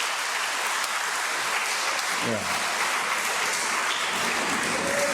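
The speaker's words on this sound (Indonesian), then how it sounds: "Kita tepuk tangan untuk mereka ya." Congregation applauds inside a church during a Catholic mass installing a new parish council, with steady sustained clapping throughout and a single brief spoken word over it.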